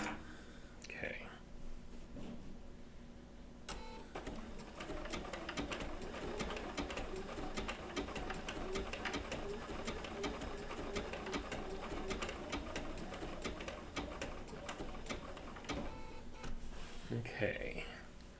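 A Bernina B790 PRO sewing machine with a 20C open toe foot stitches wool appliqué in a steady, fast mechanical whir, running continuously after a brief pause near the start, with faint quiet talk around it.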